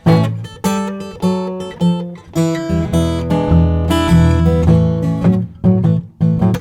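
A guitar plays a classic blues turnaround, plucked notes descending in a clear, steady phrase with ringing chords, close and alone without any talk.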